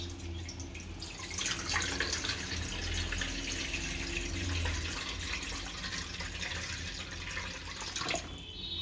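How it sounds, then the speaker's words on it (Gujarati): Water is poured into an aluminium steamer pot in a home kitchen while making besan rava dhokla, a steady close splashing and trickling flow lasting several seconds before stopping. "અંદર પાણી નાખશું આમાં"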